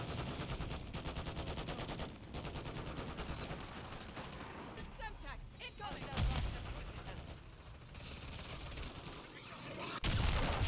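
Call of Duty gunfire during online play: continuous rapid shots and heavy booming blasts, loud and dense, with brief lulls between bursts and a sharp, powerful volley at the end.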